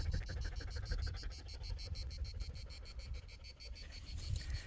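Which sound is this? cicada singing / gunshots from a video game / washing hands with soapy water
cicada singing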